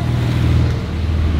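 A Porsche car's engine runs with a steady, loud low rumble close by, alone without voices.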